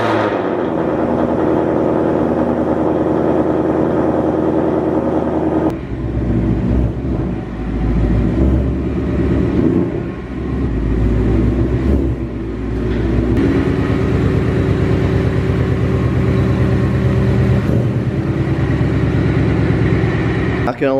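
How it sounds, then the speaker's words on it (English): A tuned Ford Mustang GT, a Corn Fed FBO car, runs on a cold start with a loud, steady rumbling idle that shifts and swells in pitch, close by and continuous throughout. "let's get this video started with a cold start"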